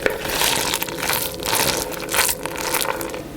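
Thick, wet squelching and squishing as a sticky treacle mixture for horse treats is worked and pressed, close up, in uneven surges with no talking.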